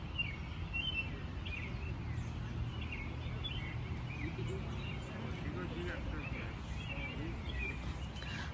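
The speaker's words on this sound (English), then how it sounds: "So I'm gonna just sit here and enjoy the birds for about 10 minutes" Birds chirp and twitter outdoors on a green evening after heavy rain. The calls are scattered and fairly faint, coming from some distance over a continuous bed of outdoor background noise.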